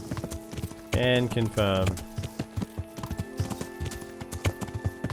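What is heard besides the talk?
horse hooves while riding in video game Kingdom Come: Deliverance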